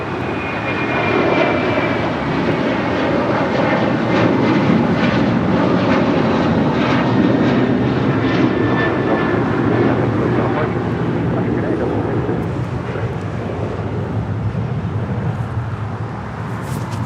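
An airliner takes off from runway 25 right at Los Angeles International Airport, its engines giving a loud, steady roar with a broad rushing wash that holds strong throughout, with faint radio-style talk in the background.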